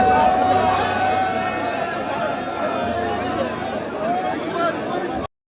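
A massive crowd gathered around a bodybuilder in Saudi Arabia, with steady dense chatter and babbling voices filling the air throughout, close and continuous.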